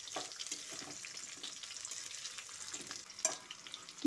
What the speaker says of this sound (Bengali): পেঁয়াজটা দিয়েও হালকা করে ভেজে নেব।